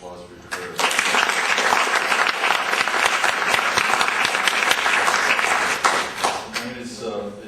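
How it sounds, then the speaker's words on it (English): An audience breaks into applause honoring a speaker's courage, with dense, loud, sustained clapping that starts abruptly, holds steady for several seconds, then tapers off at the end. "I think you deserve a round of applause for your courage"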